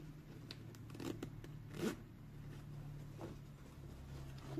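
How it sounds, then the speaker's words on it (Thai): Talon zipper on a pair of Levi's 501 jeans, a 1954 501ZXX LVC reproduction made in USA, giving a few short dry rasping zips and metal-tooth clicks close up over a steady low hum. "ซิปแบบยี่ห้อไอซิปเปอร์กริปเปอร์ด้วยนะครับผมแต่ตัวนี้เป็นทารอนนะ"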